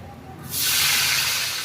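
Chopped tomato drops into hot oil where dried chilli has just been fried, setting off a sudden loud, steady sizzle that rushes in after a quiet moment and holds strong to the end.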